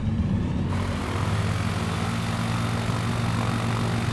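A propeller plane taxiing in Microsoft Flight Simulator, on a bush-flying route along the Adriatic coast, gives a steady, even engine drone that holds constant from start to finish.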